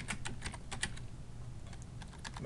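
Fast, light clicking of someone typing on a computer keyboard, a steady patter of keystrokes close by with no talking.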